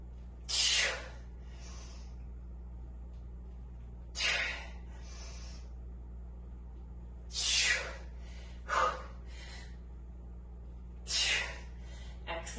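Heavy breathing from someone doing heavy goblet squats: five sharp, forceful breaths spaced a few seconds apart, close and fairly loud over a steady low hum.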